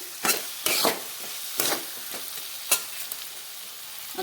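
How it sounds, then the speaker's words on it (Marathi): A spoon scrapes in several distinct strokes through a pan, stirring salt into sabudana khichdi over a light sizzle, close by and without talk. "आणि हे मीठ छान मिक्स करायचं यामध्ये"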